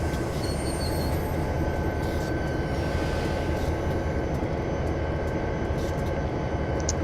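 An EMD SW1500 switching locomotive in Train Sim 2018 runs along the track with a steady, droning engine rumble and faint wheel noise, constant and even throughout.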